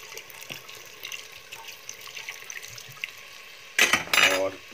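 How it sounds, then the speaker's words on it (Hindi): Roughly 300 to 400 ml of water goes into a cooking pot of Kashmiri lotus stem yakhni, a short, loud splashing pour near the end after quiet kitchen clinks and faint background noise. "अब इसमें डाल देंगे हम करीब 300 ml पानी, 300 से 400 ml हम इसमें पानी डाल देंगे।"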